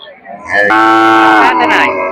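A single long, loud moo from a heifer close by at a village cattle market in Sakhipur, Tangail, deep and drawn out, after a moment of quiet.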